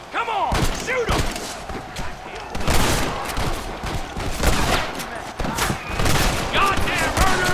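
Gunfight in Red Dead Redemption, with rapid bursts of gunfire and heavy thuds cracking out repeatedly, close and loud, while voices shout over the shooting.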